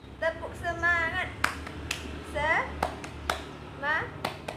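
A class of children standing and doing the tepuk semangat rhythmic clapping routine, sharp clap bursts in a patterned rhythm alternating with chanted children's voices, fairly close in a classroom.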